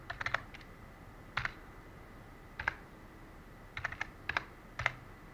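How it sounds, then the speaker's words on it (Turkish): A password is typed on a computer keyboard, with short bursts of crisp key clicks separated by pauses, quiet and close with no talk. "Oluşturduğum şifreyi yazıyorum arkadaşlar."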